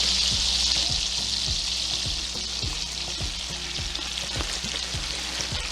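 Turnip greens fry in melted butter with salt pork, giving a steady, close, loud sizzle broken by repeated soft scraping knocks of stirring at an uneven rhythm, with no voice present.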